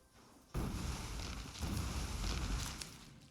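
Grenade blasts in the factory-building game Factorio burst in suddenly and roll into a sustained, booming rumble of explosions that carries on for several seconds, with another hit just at the end.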